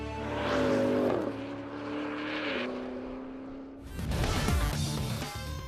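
A Porsche Cayenne Turbo GT SUV drives fast, its engine note rising through the gears with loud revving, a shift, then a sudden surge of roaring, rushing noise as it speeds close by.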